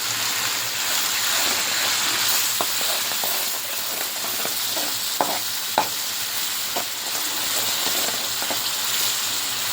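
Spiced masala with chili and sweet pepper frying in a pan, a continuous bright sizzle with occasional sharp clicks and pops from stirring, close and steady throughout.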